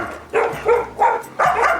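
Dogs at an animal shelter give four quick, loud barks in a rough rhythm, close by with short gaps between them and no talk.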